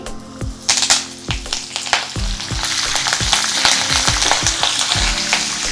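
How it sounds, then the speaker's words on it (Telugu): Mustard seeds, cumin, dried chillies and curry leaves are tempered in hot oil, producing close, busy sizzling with rapid sharp pops and crackles and some stirring scrapes. "పప్పు వేగిన తర్వాత హాఫ్ టీ స్పూన్ ఆవాలు హాఫ్ టీ స్పూన్ జీలకర్ర వేసుకోవాలి తర్వాత రెండు మూడు ఎండుమిర్చి వేసుకోవాలి"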